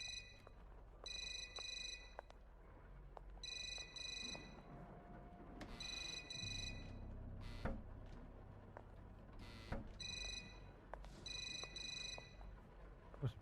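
A telephone rings repeatedly in the horror video game Suffer The Night, regular bursts of electronic trilling separated by short gaps over a low ambient hum, with one brief thud in the middle.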